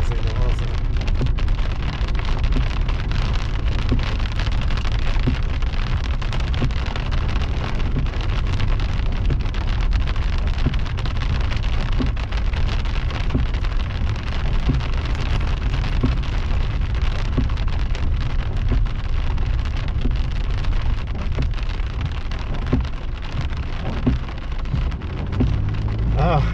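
Heavy thunderstorm rain pours steadily at a campground along the Green River near Flaming Gorge, a loud continuous wash of drops with no pauses throughout.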